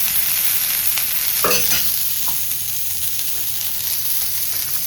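Sliced onions sizzling and frying in hot oil until brown, a steady hiss with a few sharp stirring scrapes and spatula clatters partway through.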